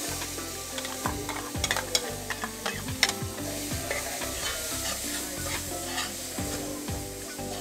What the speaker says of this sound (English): We proceed to put the sweet pepper, the garlic, the onion,